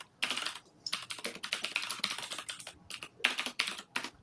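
Fast typing on a computer keyboard nearby, with dense bursts of crisp key clicks broken by short pauses, heard on its own without talk.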